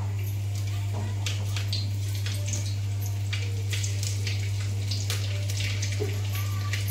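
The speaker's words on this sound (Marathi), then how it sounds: "मी लसूण टाकून घेतले बरं का 4 पाकोळ्यामध्ये तेलात." Garlic frying in oil in a pan, a steady soft crackling sizzle with scattered sharper pops throughout, fairly close, under a constant low hum, with no talk.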